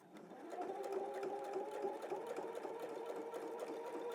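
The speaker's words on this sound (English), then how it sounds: "I'm just going to stitch just inside the fold all the way around." A sewing machine runs continuously while stitching around the fold of a cathedral window quilt block, a steady, even mechanical hum with a fast rhythmic whirr, fairly quiet and close, with no talk.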